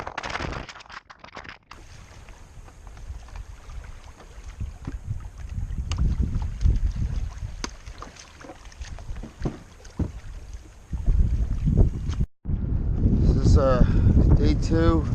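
Strong wind buffets a kayak out fishing on Mosquito Lagoon. Loud rushing gusts rumble across the microphone, swelling and dropping, and grow harsher near the end.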